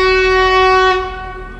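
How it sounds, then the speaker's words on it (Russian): Steam locomotive or train horn, a loud sustained tonal blast rich in harmonics that fades gradually as the train passes, heard alone with low rumble underneath. "Паровоз едет."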